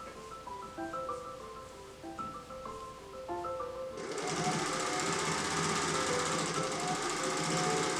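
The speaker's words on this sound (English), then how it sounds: "we're going to sew this right sides together to the waistband" Sewing machine stitching the right sides of a pleated vintage skirt to its waistband; soft notes play alone for four seconds, then the machine runs loud and steady, buzzing continuously to the end.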